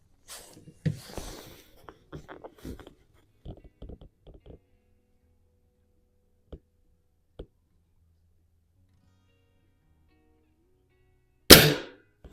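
A vintage spring air rifle fires a pellet, a single sharp loud crack near the end after a stretch of quiet handling clicks and rustles.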